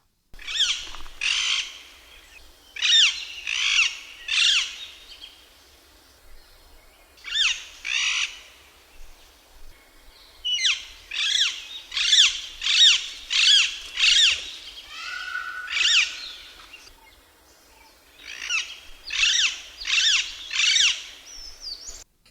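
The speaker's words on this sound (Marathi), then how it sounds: "अलेक्झांडर पॅराकिट म्हणजेच कंठा" Alexandrine parakeet gives loud, harsh screeching calls in repeated clusters of two to five notes with brief pauses between, clear and close with no other sounds.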